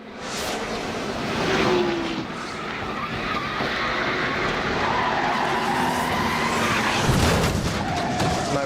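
A NASCAR truck skids as its driver fights for control, tires squealing in long sliding streaks over roaring race engines, loud and sustained throughout.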